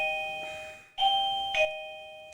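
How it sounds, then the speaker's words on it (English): A doorbell rings in a studio: two clear electronic chime tones, the first stronger and sustained, the second shorter, then a fading ring tail, loud and alone. "I'm not sure why we've got a doorbell in the studio"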